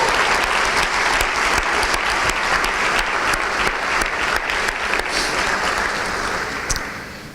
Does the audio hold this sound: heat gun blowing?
no